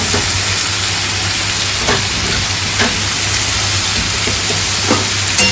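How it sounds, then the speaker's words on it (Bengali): Potato and eggplant pieces fry in hot oil in a pan, a loud, close, continuous sizzle with occasional soft scrapes of a spatula, and no talking. "আলু বেগুন একসাথে কিছুক্ষণ ভাজা ভাজা হবে"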